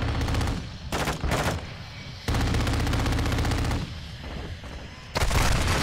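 Rapid automatic gunfire in Call of Duty, loud close bursts of machine-gun fire starting and stopping in several sustained volleys with short gaps between them.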